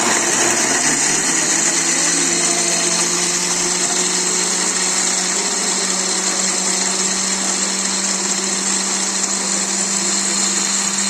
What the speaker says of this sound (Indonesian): Kita lanjut blender.